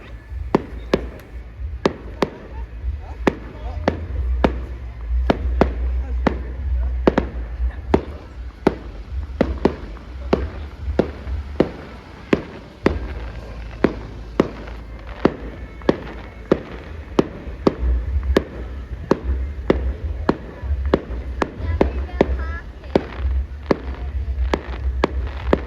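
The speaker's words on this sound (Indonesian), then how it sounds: "Dan ditutup dengan kembang api yang meriah dan bagus." Fireworks close a Perchtenlauf parade at night in Lichtenwörth, Austria, a long, dense run of sharp cracks and bangs in irregular quick succession over a continuous rumbling background.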